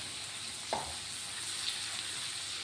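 Onions frying in a pan while a mushroom roast is cooked, giving a steady, fairly soft sizzle throughout with one brief louder stir or splash near the start and no talking.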